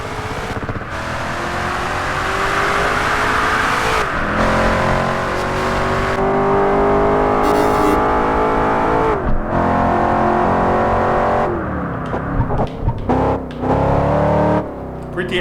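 Car engine in Project Gotham Racing 4, revving hard through rising gear pulls with sharp drops at shifts, loud and continuous with a brief quieter stretch near the end.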